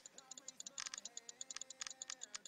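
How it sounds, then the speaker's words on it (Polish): Rapid clicking while playing the browser game Shakes & Fidget, a steady run of sharp, close taps in quick bursts, some clustered together, with no talking over them. "Trochę tutaj klikania będzie."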